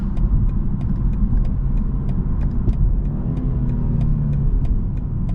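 A 2022 BMW 230i coupe's engine droning steadily from inside the cabin while driving, partly synthetic sound piped through the cabin speakers, a continuous low rumble with no talk.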